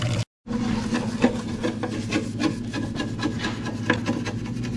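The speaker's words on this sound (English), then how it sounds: "Alright, we'll get scrubbing on this thing." Oily engine part being scrubbed clean, a steady rapid rasping rub with rhythmic strokes, loud and close, with no talking.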